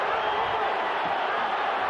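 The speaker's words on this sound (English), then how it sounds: "The crowd going wild with every Chavez punch" A boxing arena crowd at a Chavez title fight roars in a continuous dense wash of cheering and shouting, loud and sustained with no breaks.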